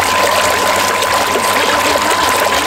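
Steady, loud rush of water spraying and rinsing grime off a car engine's intake manifold, a continuous hissing splash without pauses.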